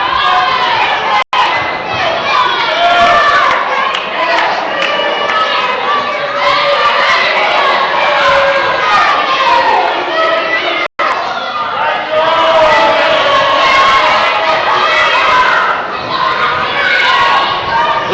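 A small-venue wrestling crowd of about 117 people in Camden, West Virginia, shouts and cheers steadily throughout, a dense, loud wall of voices with children's yells mixed in.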